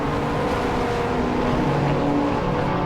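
A BMW race car in a BARC circuit race roars past at close range, its engine note loud and steady throughout with a broad, continuous mechanical drone and no voices.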